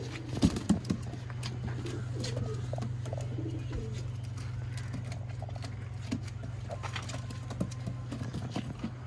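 Old line pigeons kept for sale give soft cooing and fluttering close by, over a steady low hum, with a few brief louder knocks.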